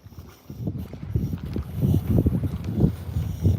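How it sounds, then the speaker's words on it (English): Gusty wind buffets the microphone with low, rumbling bursts that grow stronger and stay steady outdoors, with no voices. "Ooh, it's windy."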